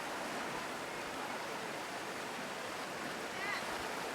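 A river in western Massachusetts flows with a steady, broad rushing wash of water, soft and even throughout with no break.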